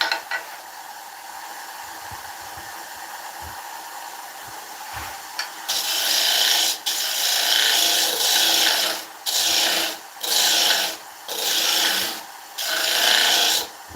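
Round nose scraper cutting spalted beech on a wood lathe: quiet spinning at first, then loud rasping scraping in repeated bursts with short pauses between passes.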